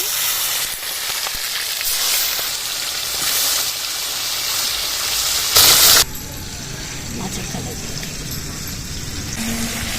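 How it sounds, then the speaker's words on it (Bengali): Fish frying in hot oil in a pan, a steady crackling sizzle with a sharp burst of spattering partway through before it settles into a quieter, even hiss. "মাছগুলো এবার তেলে ছেড়ে দিচ্ছি"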